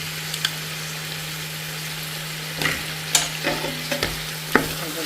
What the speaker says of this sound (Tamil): கருவேப்பிலை சேர்த்தாச்சு வதக்கி கொஞ்சம் நல்லா வதக்கி கொண்டு வருகிறது